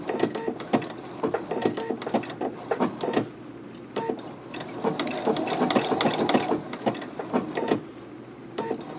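A sewing machine runs a fancy or satin stitch along an appliqué edge, its needle chattering in rapid mechanical bursts with brief pauses and restarts.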